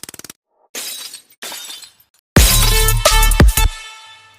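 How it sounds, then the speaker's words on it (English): Glass shattering effect used in music production: a sharp, loud crash with bright scattering shards and a short decaying tail, preceded by a few quick clicks and two softer noisy bursts. "glass breaking or something, you know."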